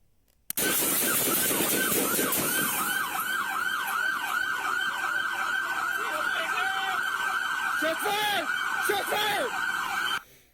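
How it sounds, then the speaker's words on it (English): Wailing emergency sirens cycle up and down continuously, loud and close, with traffic noise underneath and a second siren pattern joining near the end, in Houston after a police shooting. "for the longest time, you hear lots of sirens"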